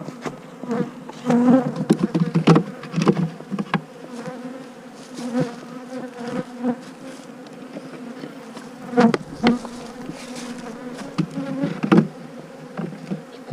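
Hungry honey bees buzzing around open hives during frame salvage, a dense close swarm drone rising and falling, with no voices.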